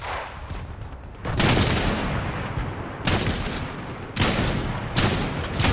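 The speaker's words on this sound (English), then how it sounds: "Because I'm shooting at him." Video game shootout gunfire, several loud bursts of rapid shots close by, broken by short pauses, with no talk over them.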